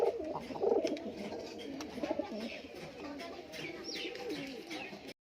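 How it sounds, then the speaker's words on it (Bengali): Pigeons in a loft cooing together, a steady layered murmur of low throaty coos with a few chirps, fairly close, over faint background noise. "পায়রাগুলো সব দেখতে পাচ্ছ, সব কেমন মস্তিতে আছে।"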